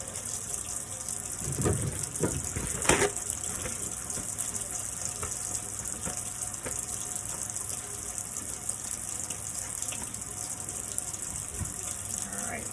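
Tap water runs steadily into a sink during hand rinsing after a wrist bandage is applied, a continuous close gushing stream with occasional splashes and a few soft knocks.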